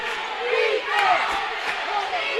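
Winona Christian basketball fans roar and cheer at a state tournament game, a dense crowd of shouting voices swelling and surging over a couple of seconds.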